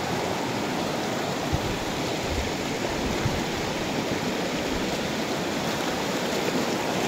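The Panipyason River in Madalag, Aklan, flowing gently through a shallow stretch, making a continuous, even wash of rushing water with no voices over it.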